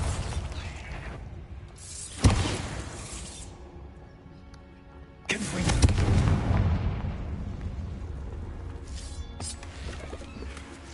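Two sharp, loud magical blasts from the Bombarda explosion spell in the wizarding game Hogwarts Legacy, each a sudden crack followed by a decaying rumble and scattering debris, the second longer and heavier.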